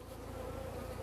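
Honey bees hum in a dense, steady buzz around an opened hive frame heavy with pollen and honey, close and continuous.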